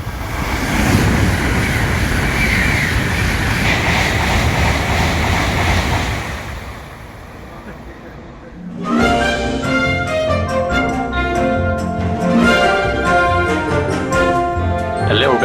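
Steady broad rumble of a Shinkansen bullet train on the way to Osaka, loud and continuous for about six seconds before fading out, then music takes over.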